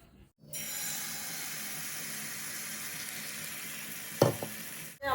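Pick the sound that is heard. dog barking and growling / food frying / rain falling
food frying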